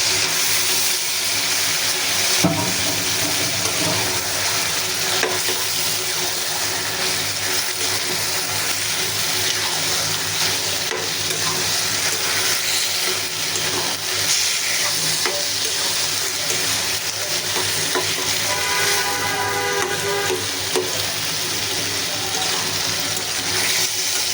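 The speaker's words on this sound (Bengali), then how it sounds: "মশলা কষানো হয়ে গেছে, এখন দিয়ে দেবো কচু শাক।" Taro leaves with shrimp frying in a pan of cooked-down spice paste, a steady close sizzle with stirring and scraping throughout, no talking.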